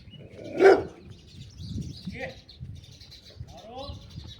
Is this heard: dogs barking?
yes